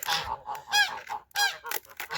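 Farmyard geese on a Ukrainian village homestead let out a series of short nasal honks, loud and near, with brief pauses between the calls and no other sound.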